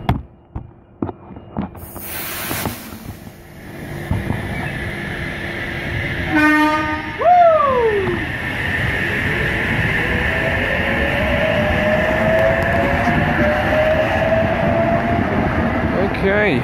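A Sydney H-set train departing Cowan station in the early morning: scattered clicks and a sharp burst, then a loud two-tone horn, followed by a rising electric motor whine and steady rolling rumble as it pulls away, with talk near the start.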